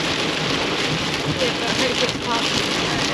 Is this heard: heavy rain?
yes